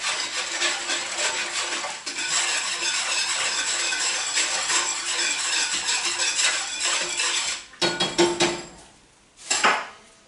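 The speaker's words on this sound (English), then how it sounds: "I'm going to whisk that around to make sure it dissolves real good" A whisk clatters quickly around a bowl, stirring salt into turkey brine with dense metallic scraping and clinking, then breaks into two short bursts near the end.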